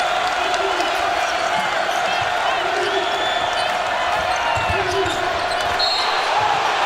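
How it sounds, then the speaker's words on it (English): Fans in the LSU home arena swell into a cheer during a Houston vs LSU college basketball game, a steady broad roar running throughout under a play-by-play announcer's voice. "And here comes the crowd."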